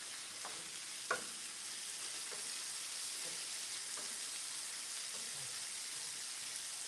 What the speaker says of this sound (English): Let's just continue to sizzle.